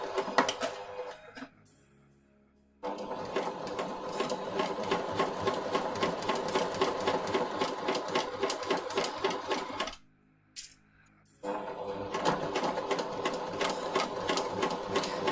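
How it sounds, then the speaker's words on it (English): A sewing machine running pin tucks along a shirt's seam line, a fast steady stitching rattle in long bursts with two short pauses, close and loud and alone. "I'm going to try to stick to the same line on the sewing machine"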